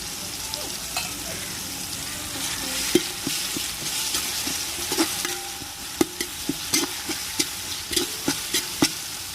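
Onions, tomato, ginger paste and mint fry in a pan for chicken biryani, a close steady sizzle broken by sharp scraping clacks of a spoon stirring, growing busier toward the end.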